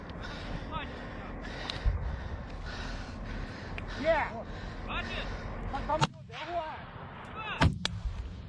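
Weapon fired in Ukraine war footage, with a few sharp loud bangs standing out from a busy background of voices and breathing.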